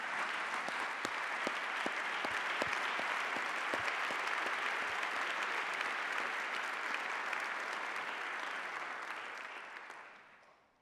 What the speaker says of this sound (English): Let's have a round of applause for their efforts.